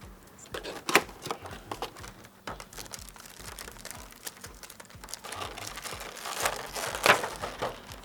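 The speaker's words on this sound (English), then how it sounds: "So I'm just going to open this little tab here." Cardboard packaging tab of a Sennheiser HD 4.40 BT headphone box being pried open, close and quiet crinkling and tearing with sharp crackles and snaps scattered over several seconds, no speech.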